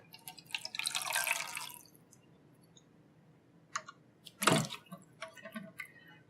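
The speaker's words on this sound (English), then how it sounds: "I'm just going to add water" Water is poured into a small glass candy jar set up for dip etching, with a short splashing pour followed by scattered drips and light clicks against the glass, close and quiet.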